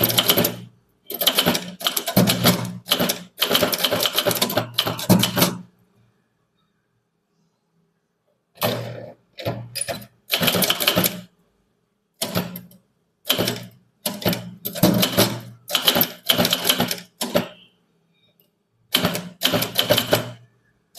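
Bursts of rapid typewriter keystrokes clatter as Tamil letters are typed on a manual typewriter, arriving in clusters separated by quiet pauses, close and crisp with no speech.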